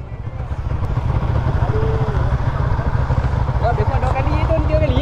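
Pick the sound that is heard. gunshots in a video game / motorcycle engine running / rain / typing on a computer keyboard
motorcycle engine running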